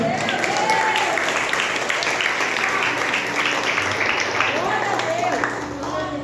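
A church congregation applauds during a Sunday first-fruits service, a steady, dense wash of clapping that fills the room for several seconds, with voices faintly audible underneath.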